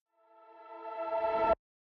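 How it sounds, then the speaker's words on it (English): Reversed synth pad swelling from silence into a bright sustained chord for about a second and a half before stopping dead, used as a transition in an alt-rock production. "Here's like a little pad reverse."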